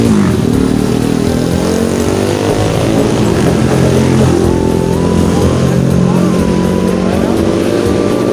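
A motorcycle engine revs loudly and continuously up close, its harmonic drone holding steady and shifting pitch throughout, with voices faintly mixed in underneath.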